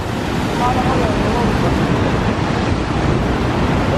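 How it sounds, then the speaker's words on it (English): Rough, choppy stormy sea churning steadily off Malta with a constant broadband roar, wind buffeting the microphone throughout and no clear breaks between waves. "The water's way too choppy to be in it"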